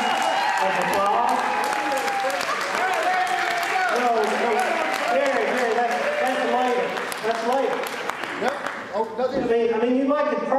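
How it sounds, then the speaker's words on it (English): An audience at a Nutcracker ballet performance applauds to welcome a radio personality onstage as Mother Ginger, the clapping running beneath a prominent voice or music throughout. "Let's applaud."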